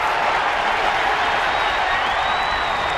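Baseball stadium crowd cheering during a night game at a packed ballpark, a dense continuous roar that holds steady and loud for the whole stretch.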